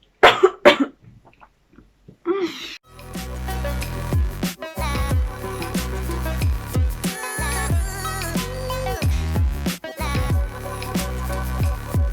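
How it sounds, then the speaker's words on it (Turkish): A person, a university student, coughs in a few sharp bursts at the start, then loud music takes over for the rest. "Öksürüyordum."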